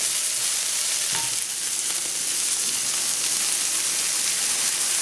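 Ginger garlic paste frying with green chilies in hot oil while making lamb brain fry masala: a continuous bright sizzle and crackle, steady and close, with a faint clink near the start.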